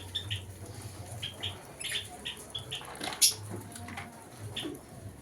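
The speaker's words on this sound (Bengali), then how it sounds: "এদিকে বদ্যি পাখি এই যে" Budgerigars chirp in short, scattered bursts against a low background hum, fairly close and moderately loud, with a faint voice now and then.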